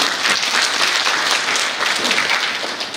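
An audience at a blockchain and AI tech summit applauds a panelist's introduction with dense, sustained, even clapping that fills the hall at full volume for the whole stretch.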